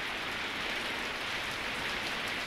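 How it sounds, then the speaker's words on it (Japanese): Heavy rain falls steadily as a dense, even hiss of drops on surfaces, loud and continuous with no voices over it. "ひどい雨。"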